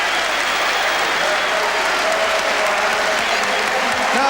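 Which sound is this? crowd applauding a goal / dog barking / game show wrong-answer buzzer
crowd applauding a goal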